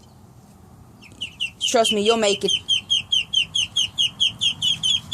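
An angry hen lets out a sharp squawking burst, then clucks in a steady, rapid, rhythmic series up close, after a brief spoken word.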